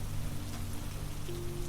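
Steady rain falls on a seaside cabin, a soft, even patter with a low background rumble and a faint hum, continuous and unbroken with no voices.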